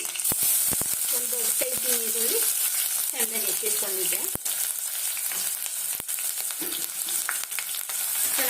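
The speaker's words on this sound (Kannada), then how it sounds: "ಫ್ರೈ ಮಾಡ್ಕೊಂಡ್ಬಿಡೋಣ ಈರುಳ್ಳಿ ಚೆನ್ನಾಗಿ ಫ್ರೈ ಆಗಿದೆ" Onions frying in hot oil with bay leaf and mint in a pan, a loud, steady sizzle with occasional spoon taps and stirring, with a faint voice briefly underneath.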